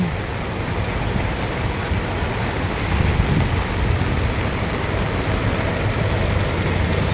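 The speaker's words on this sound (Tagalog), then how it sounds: "Gawa ng panay ang ulan yung panahon natin ngayon, oh." Steady, heavy rain hisses continuously, a dense wash of noise with a low rumble underneath and no voices.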